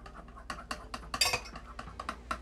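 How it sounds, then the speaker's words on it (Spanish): A utensil clinks against a bowl while mango flan ingredients are mixed for a no-bake dessert. The metallic taps and scrapes come close and in quick, uneven succession. "y voy a mezclar"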